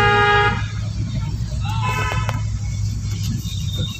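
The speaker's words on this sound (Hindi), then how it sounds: "लॉन्ग हॉर्न पुश करो" A car horn blares near and loud for about half a second at the start while a learner drives through narrow streets, followed by a fainter, more distant honk, with an instructor talking over the steady engine hum.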